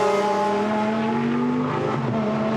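Last year's Audi GT race car at speed on a circuit's back straight during qualifying at Misano, a loud steady engine drone with a gradually shifting pitch, continuous and close throughout.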